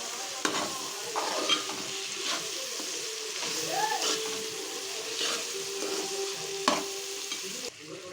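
Ivy gourd and tomato curry is stirred in a sizzling pan, with a spoon scraping and clinking at intervals over a steady frying hiss. No one speaks.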